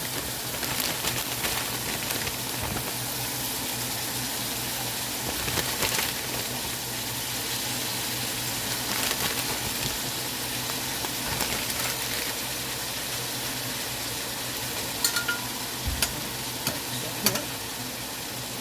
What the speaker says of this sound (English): I have a bag of frozen peppers here, green, red peppers and onions. And I'm going to be putting that in my sloppy joe mix